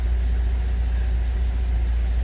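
A Holden SV6 Commodore engine idles while warming up, producing a steady, close low-frequency rumble with an even drone and no change in revs.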